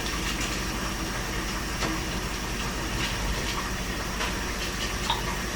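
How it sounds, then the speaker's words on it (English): Cold tap water runs steadily over a candle mold, a continuous close splashing gush with no pauses and no talk over it. "Now I'm going to put cold water on it."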